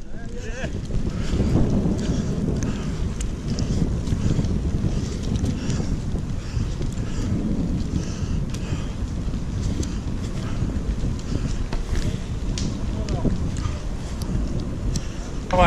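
Constant wind buffeting the microphone while riding a trike, a low rumbling roar with gusty bursts running throughout, fairly loud and close.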